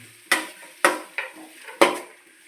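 Onion and green chilies frying in a pan, heard as four distinct scraping stir strokes over a faint sizzle, close and otherwise quiet.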